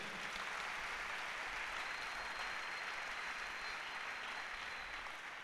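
A church congregation breaks into sustained applause at a worship service, a dense, steady wash of clapping hands that holds at an even level throughout without pause.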